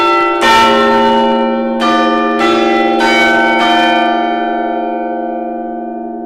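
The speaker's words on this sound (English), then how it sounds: "Okay, so the hour bell" Salisbury Cathedral's hour bell rings loud and close inside the bell tower, several heavy strikes a second or so apart with long, shimmering overtones that hang and slowly decay.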